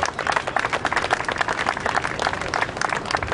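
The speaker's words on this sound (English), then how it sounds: "So a round of applause for Ms. Greta Gaines" An outdoor rally crowd in Charlotte applauds someone speaker, many hands clapping in a lively, irregular burst that stays fairly close and steady, no voices over it.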